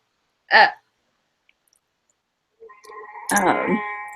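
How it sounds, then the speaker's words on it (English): A phone ringtone of a Chewbacca roar goes off during a podcast: one short, loud growling burst, then after a pause a longer roaring, harmonic cry with a sharp click, close and alone. "Sorry, my phone just went off. And yes, that was Chewbacca, everyone."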